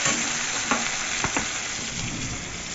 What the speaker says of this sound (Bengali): আর এদিকে কচুটা ভেজে দিচ্ছি